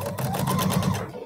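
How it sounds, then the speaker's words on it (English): Sewing machine stitching a quilt block, a rapid, even mechanical whir with steady needle ticks, close up and continuous with no talking. "This sewing machine works fine like that"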